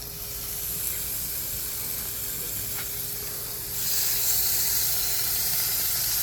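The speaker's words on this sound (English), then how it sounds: "Ooh, a little bit of a sizzler." Surf and turf sizzles on a hot grill set to high, a steady close hiss that swells louder partway through, with faint clicks and no talking.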